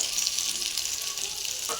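Chopped onions and tomatoes fry in a wok for an aloo posto dish, giving a steady, close, continuous sizzle with no talking.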